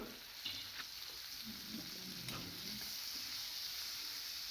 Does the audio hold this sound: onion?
yes